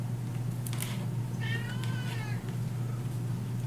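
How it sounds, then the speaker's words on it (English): A pet cat meows several times, fairly close in an indoor studio, over a steady low electrical hum. "that is my cat who has just walked into the studio"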